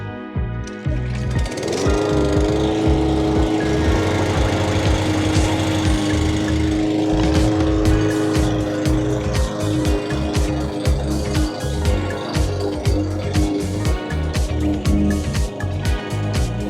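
A lawn mower set to its lowest cutting height scalps grass, its engine droning loud and steady close by, with irregular rattling and thumps from the blade chopping into the turf.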